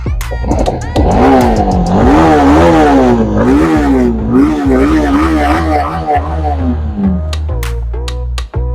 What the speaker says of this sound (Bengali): যেভাবে এক্সস্টের সাউন্ড থাকে ঠিক এভাবেই আছে